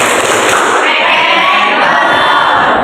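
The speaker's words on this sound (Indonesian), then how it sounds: "Tepuk tangan 2 kali." Classroom of children clapping together on a teacher's count, a loud, dense burst of clapping with some shouting, filling the room from start to finish.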